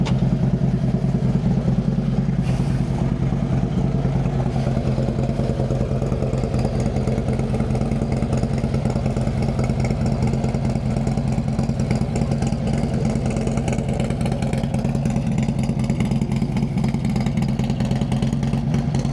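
Motorcycle fitted with a 107 Stage II engine runs steadily up close, a loud continuous low rumble with rhythmic mechanical clatter, idling throughout without pauses or voices.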